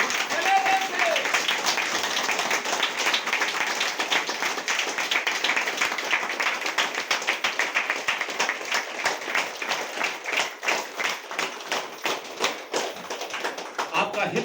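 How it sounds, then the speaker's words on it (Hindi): A crowd at a DXN business motivational gathering claps loudly for a leader, a sustained patter of many hands that becomes more uneven and rhythmic toward the end, with a speaker's voice audible in the mix. "उस लीडर के लिए एक बार जोरदार ताली होनी चाहिए।"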